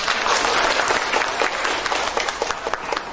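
Sustained applause from a seminar audience, dense clapping filling the whole stretch at steady, fairly loud level with scattered sharper claps toward the end.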